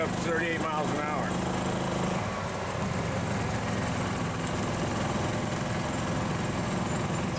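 A 1957 Chevy golf cart fitted with a cammed engine revs and pulls away. The motor drones loud and constant throughout, and a voice is heard early on.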